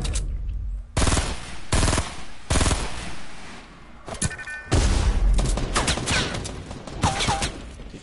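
Repeated bursts of heavy automatic gunfire in Fortnite, loud and dense, broken by short pauses, with booming impacts underneath.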